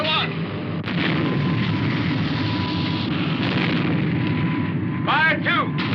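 A cannon fires its first shot, a loud continuous roaring blast that fills the whole stretch, with a brief voice cutting in near the end.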